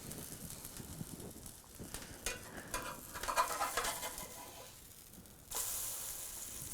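Tomato cake batter fries in a pan, giving a faint, uneven sizzle with light crackling that swells and fades, quiet and close with no talking.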